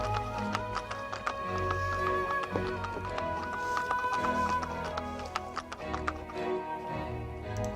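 In a fantasy adventure video game, a horse's hooves clip-clop in a steady rhythm over a bed of game music.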